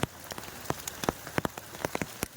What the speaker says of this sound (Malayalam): കണ്ടോ മഴ കണ്ടോ നല്ല കിടുക്കാച്ച മഴ